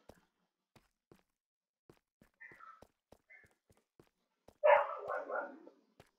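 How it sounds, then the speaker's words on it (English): A dog barks indoors in the background: a couple of faint short yips, then one louder, rough burst of barking, among sparse quiet clicking and tapping. "Sorry about my dog barking."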